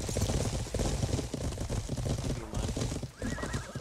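A horse whinnies loudly amid rapid clip-clopping hooves in a medieval PvP video game, with battle noise around it; close and prominent throughout.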